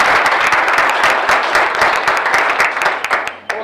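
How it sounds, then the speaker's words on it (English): A round of applause at an awards ceremony, many hands clapping together at full strength, then tapering slightly toward the end with a few individual claps standing out. "So could we give her a round of applause?"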